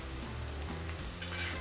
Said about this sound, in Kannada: ನೋಡಿ ಎಲ್ಲನೂ ಎಣ್ಣೆಯಲ್ಲಿ ಈರುಳ್ಳಿ ತುಂಬ ಚೆನ್ನಾಗಿ ಫ್ರೈ ಆಗಿರಬೇಕು